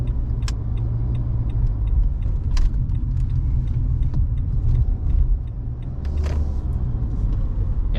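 Road traffic at a city intersection with cars passing, a continuous loud engine rumble with occasional sharp clicks and clatters, swelling and easing slightly as vehicles move off, and no talking.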